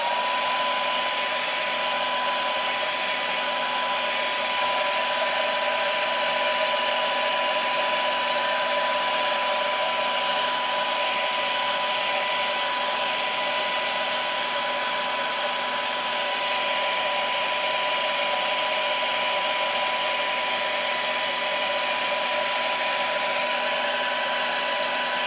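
Heat gun blowing steadily to heat-set fresh paint on a topwater fishing lure, a continuous close whooshing hiss with a faint tonal whine, unbroken throughout and with no talk.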